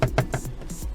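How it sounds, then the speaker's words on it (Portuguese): A seat belt on a 2019 Hyundai HB20s Premium knocks against a hard plastic side panel, making four or five quick, close, dull taps in an even rhythm with nothing else around them. "O cinto de segurança batendo nessa lateral que é de plástico rígido."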